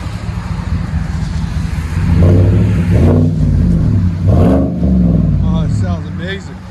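A Chevy Silverado with a 5.3L engine and Flow FX high-flow catalytic converter revs, its deep exhaust rising and falling in several surges, loud and close, with people talking over it.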